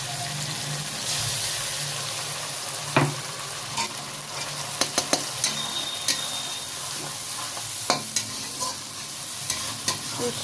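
Browned onion and spice paste frying in a pan for egg curry, a continuous close sizzle with repeated clinks and scrapes of a spatula stirring throughout.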